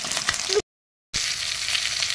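Chicken sizzles and crackles steadily in hot oil in a pan, broken by a brief moment of silence before the frying resumes.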